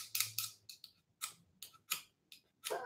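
Sharp scraping strikes of a ferro rod, used when honing a knife, sending off sparks: several quick rasping bursts in an uneven rhythm, close and fairly loud, with short quiet gaps between them.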